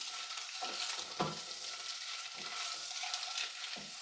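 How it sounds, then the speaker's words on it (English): Boiled eggs fry over a low flame in an Indian egg masala pan with chilli powder, giving a steady soft sizzle broken by a few louder stirring scrapes, close and continuous with no talking. "add boiled egg. Let it get color. Keep it on low flame."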